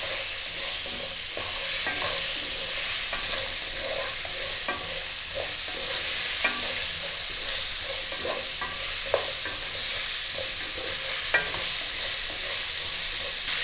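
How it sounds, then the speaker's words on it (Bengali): Potatoes and cauliflower, seasoned with salt and turmeric, fry lightly in a pan and are stirred throughout, giving a steady close sizzle broken by frequent scraping and clinking stirs, with no talking. "আলু আর ফুলকপিটা হালকা ভাজা ভাজা করে নেব।"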